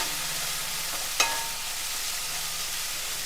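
Onion pieces frying in a pan for a gravy, a steady broadband sizzle throughout with one brief sharp clink of a utensil partway through, no voices.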